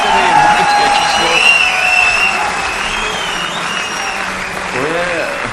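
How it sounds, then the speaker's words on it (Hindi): A crowd at a sporting event cheers and applauds in a continuous, loud wash of clapping and voices. A tonal sweep appears near the end, and speech runs underneath. "जोरदार तालियां होनी चाहिए यार"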